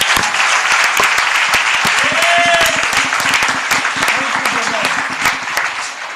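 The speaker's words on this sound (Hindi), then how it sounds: "मस्त ताली बजाएंगे और प्रभु को धन्यवाद।" A church congregation claps together in sustained, loud, dense applause at a live worship service, with voices calling out over the clapping.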